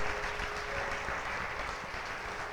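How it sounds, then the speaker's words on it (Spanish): A church congregation at a special Holy Week service claps together in a brief, steady burst of applause, fairly close and continuous, with a faint sustained tone underneath. "Un aplauso a nuestro Señor."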